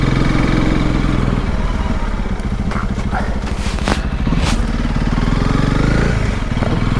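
A Honda CRF300 Rally motorcycle rolls steadily along a lane past houses with the clutch in, its engine a constant close drone with small revving swells throughout.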